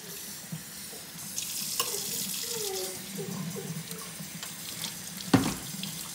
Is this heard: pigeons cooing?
no